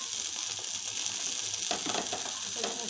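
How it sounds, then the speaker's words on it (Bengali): Thin slices of fat-free meat sizzle steadily in a hot pan, with scraping and stirring clatters joining in toward the end, close and fairly quiet. "ওর জন্য এভাবে ভেজে দিচ্ছি"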